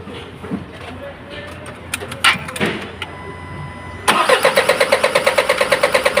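An Isuzu 4HL1 diesel engine with a hard-starting fault is cranked, with a few clicks and knocks before the starter engages and then a loud, rhythmic, rapid pulsing crank close by.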